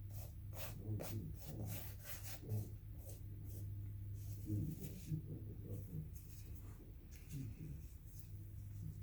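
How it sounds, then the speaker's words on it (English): Steady rubbing and light scraping as gold leaf is worked off a resin artwork in circular motions, a continuous close-up rasp with a low hum underneath and occasional brief voice sounds. "just going to start rubbing this off a little bit"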